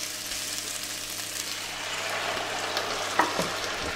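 Onions frying in a pan being deglazed with white wine, a steady close sizzle with a few soft stirring knocks and a brief louder hiss near the end.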